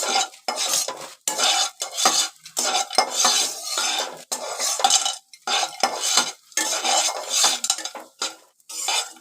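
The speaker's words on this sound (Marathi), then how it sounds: "त्याच थोडं तेल होते हा हिंग भाजून घेते" Asafoetida roasting in a little oil in a pan while a spoon stirs and scrapes, giving steady clinking, scraping strokes with light sizzle beneath, close and fairly loud, no speech.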